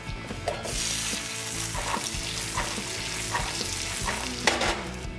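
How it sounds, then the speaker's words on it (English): Pecans sizzle and fry in a hot pan, a steady crackling hiss with occasional stirring scrapes and clinks throughout, close and fairly loud, with no talking. "all you really want to do here is fry up the pecans to give them a little more flavor than just raw pecans"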